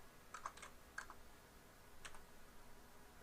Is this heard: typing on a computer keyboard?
yes